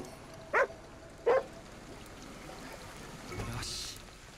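Dog in the video game Ghostwire Tokyo gives two short, sharp barks about a second apart over quiet ambient game noise, followed by a soft swelling whoosh.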